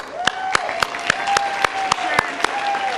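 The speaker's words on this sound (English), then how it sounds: "can you stand up so we can give you a round of applause?" Audience applause at a volunteer recognition luncheon: steady, evenly spaced claps repeating about three to four times a second, with a sustained tone running beneath and a voice-like presence in the background.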